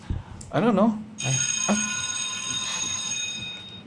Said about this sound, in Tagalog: Bell na. Sorry. Recess na.